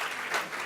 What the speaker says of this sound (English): You're all being very nice and applauding every single finalist.